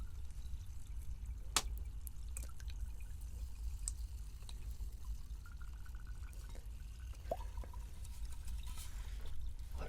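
Fanta soda with real jelly pieces poured into a container, a close, quiet liquid trickle with scattered drips and small plops over a low steady hiss.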